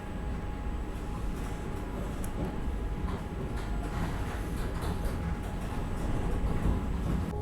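Vande Bharat Express from Himmatnagar toward Dungarpur, heard from inside an AC chair car: a steady low rumble of the train running at speed, continuous and unbroken, with faint cabin hiss and no talk.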